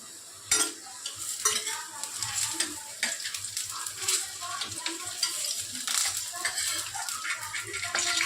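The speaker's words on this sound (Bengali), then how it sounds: "গুড়ি কচুগুলো লাল লাল করে ভেজে নিলাম।" Pieces of guri kochu, a small taro, fry in a pan for a fish curry meal, a loud continuous sizzle with repeated scraping and stirring strokes throughout.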